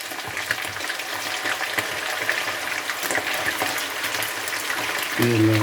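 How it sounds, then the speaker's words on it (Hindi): Pieces of meat (gosht) frying in hot oil for Pakistani Peshawari namkeen gosht, a steady, busy crackling sizzle throughout with a brief tonal clink at the very end. "हमारा तेल गर्म हो गया है। इसमें हम ये जो है ना गोश्त डाल देंगे।"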